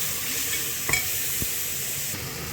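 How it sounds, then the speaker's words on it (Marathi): Finely chopped tomatoes sautéing in hot oil for masoor dal pulao, a soft continuous sizzle with a few sharp spoon-against-pan clicks as they are stirred. "बारीक चिरलेलं आपलं टमाटर आहे ते पण टाकून घ्यायचं. टमाटरला 5 मिनटं व्यवस्थित परतून घ्यायचं आहे आपल्याला."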